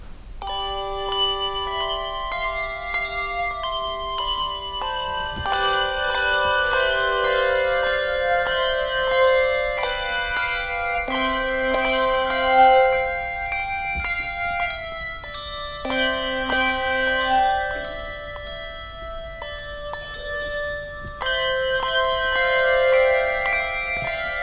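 A handbell choir plays two songs at a spring school choral concert, with clear ringing bell tones in layered chords and melody lines that sustain and decay, alone without talk.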